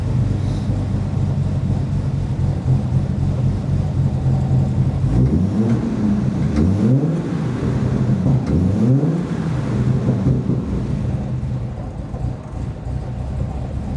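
Volvo 164 engine running at a steady, slightly rough idle, then several rising and falling throttle blips mid-way before settling back to idle.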